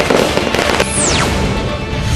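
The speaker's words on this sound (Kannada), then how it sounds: "ಮೈದಾನದ ಹೊರಗಡೆ ಹಿಂದೂ ಸಂಘಟನೆ ಕಾರ್ಯಕರ್ತರು ಪಟಾಕಿ ಸಿಡಿಸಿ ಸಂಭ್ರಮಾಚರಣೆ ಮಾಡಿದರು" Firecrackers burst outside a ground where Hindu groups are celebrating Ganesh Chaturthi, with a loud, continuous crackle. A rising whistling rocket then fades as the bursts keep going.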